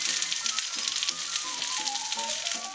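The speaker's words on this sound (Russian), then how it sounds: "Выкладываем на сковороду и обжариваем рыбу с двух сторон примерно по 3 минуты с каждой." Hake fillets coated in sesame sizzle in a frying pan, a close, steady hiss with faint crackles throughout and no talking.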